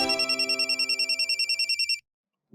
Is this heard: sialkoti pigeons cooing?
no